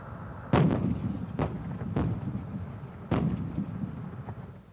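Rockets launched from Baghdad Airport during wartime: four heavy booms at irregular intervals over a steady low rumble, moderately distant, with no talk.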